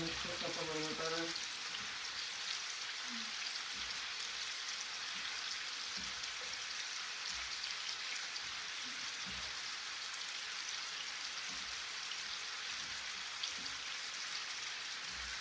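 Cajun shrimp, sausage and vegetables frying in a skillet give a dense, steady sizzle like rain, with faint scraping and stirring knocks throughout and a brief voice at the start.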